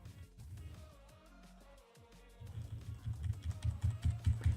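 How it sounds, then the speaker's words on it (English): Keys clatter on a loud computer keyboard during a Farming Simulator 25 game stream, with quick, uneven keystrokes that grow busier and louder toward the end. "I forgot that the keyboard is quite loud."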